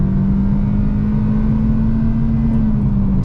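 A 2024 Kia Picanto GT-Line with a manual gearbox and a 1.25-litre four-cylinder engine drones steadily under acceleration, a loud, even mid-pitched hum heard from inside the cabin with road noise beneath it and no talk.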